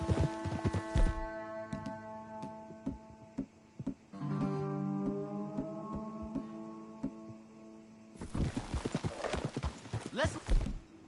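Horses' hooves clip-clop in Red Dead Redemption 2, a run of sharp hoof strikes at the start and again toward the end, with a steady tonal music bed and some speech in between.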